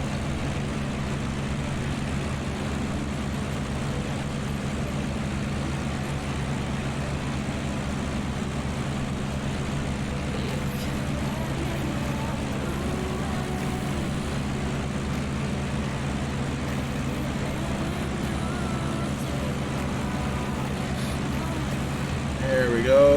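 A propeller plane in Microsoft Flight Simulator passes in a flyby, heard as a steady droning engine hum that holds at an even level the whole time, with no talk.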